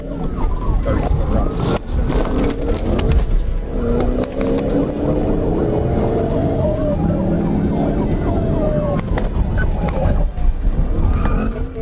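A police pursuit of a fleeing blue Dodge Charger near I-430, with loud, close sirens wailing and sweeping in pitch over road noise, sharp bangs and clatter cutting through.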